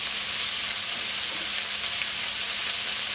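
Pork fries in a wok for fried rice with a steady, dense sizzle. The crackle holds at an even loudness throughout, up close, with no voices.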